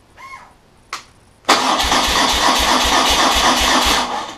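A BMW 1200 motorcycle engine is started after a fuel filter service: a couple of brief clicks and a short crank, then the engine catches and settles into a loud, steady, pulsing idle close by.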